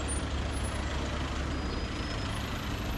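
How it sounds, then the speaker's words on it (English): A city bus in Novosibirsk idles and rumbles nearby in a low, steady churn amid faint street noise, with no talk over it. "it's a typical bus, classical bus"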